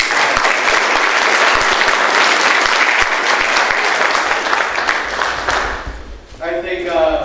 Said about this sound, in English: give a big round of applause to Mindfly for putting all this together